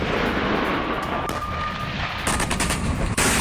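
Gunfire during an attack by special forces on a Russian T-62M tank, heard as sustained bursts of automatic fire over a dense, noisy combat background with no speech.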